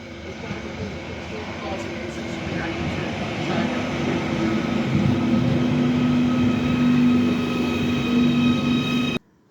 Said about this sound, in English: I took one of their new trains, just one stop to the end of the line here at Hunts Cross